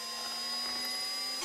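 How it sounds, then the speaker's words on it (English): A drill bores pilot holes into a window frame, a steady close whirring whine with a sustained motor tone lasting the whole short burst. "Then drill pilot holes"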